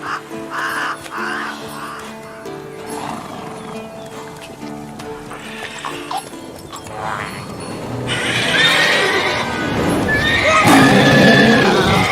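Geralt's horse Roach in The Witcher 3 video game neighs and snorts several times over a steady clip-clop of hooves, with crows cawing and an outdoor game ambience that swells louder toward the end.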